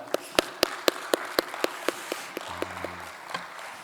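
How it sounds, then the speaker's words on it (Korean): Scattered hand claps at an early-morning church service, a dozen or so sharp, separate claps in a loose rhythm, fairly close and not loud, with a brief low tone near the end. "감사의 박수 하나 올리겠습니다"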